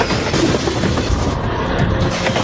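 An eight-carriage commuter train running from Melun to Paris Gare de Lyon, a loud dense rolling rumble with rattling and rushing noise, steady throughout and without speech.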